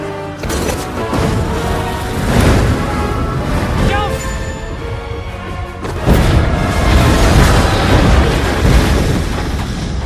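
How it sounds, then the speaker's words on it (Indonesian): A windmill tower set ablaze and blown up in a film scene: heavy booming blasts and crashing rumble over several seconds, swelling loud around the middle and end, with a dense roaring wash throughout. "membakar menara kincir tersebut hingga meledak"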